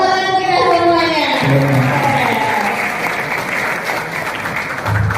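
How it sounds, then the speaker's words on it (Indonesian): Audience applause at a university student orientation event, steady clapping from a crowd filling the hall, heard beneath a voice and musical tones that fade early on. "Tepuk tangan kita semuanya."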